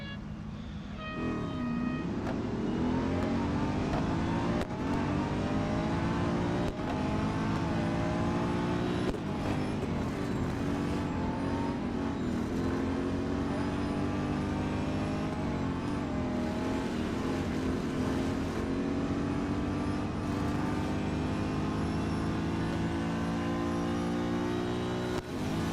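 Race cars in Real Racing 3 at Lime Rock Park roar off together at the start of a multi-car race, engines revving and rising in pitch through the gears in a loud, continuous drone.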